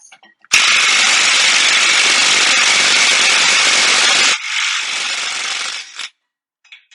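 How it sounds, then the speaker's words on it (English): A small impact wrench on a 2017 Cadillac XT5 loosens a 36 mm axle nut, hammering in one loud, steady burst of about four seconds. It changes pitch briefly before stopping, close up, with no talk over it. "Let's see if my little impact can get it off."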